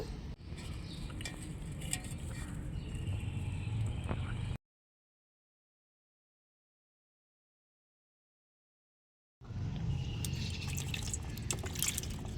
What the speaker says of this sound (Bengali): এবার আমি লেবু আর পুদিনা পাতাটা ধুয়ে নেব।